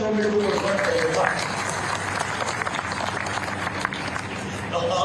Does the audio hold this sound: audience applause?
yes